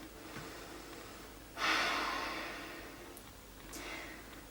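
A person resting in a yoga pose breathes audibly, with a single fairly loud exhale in the middle and a softer breath near the end against a quiet room.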